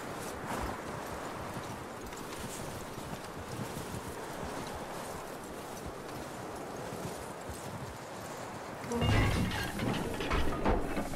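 Horse hooves clip-clopping at a steady walk in the video game Red Dead Redemption 2, continuous and moderately close, louder near the end.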